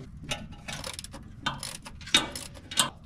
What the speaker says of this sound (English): I'll have to take off the nut on the starter solenoid to get this one off